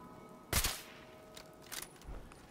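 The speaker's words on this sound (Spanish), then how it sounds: "Le puse un silenciador, ¿no? Ya mi nivel me permite poner silenciadores a las armas." Silenced gunshots from a suppressed weapon in the video game Fallout 4: one sharp muffled shot followed by a couple of fainter, quicker pops, heard alone over a quiet game background.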